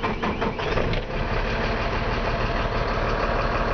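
A warmed-up car engine running steadily at idle just after the key is turned, with a constant low rumble close by and no talk.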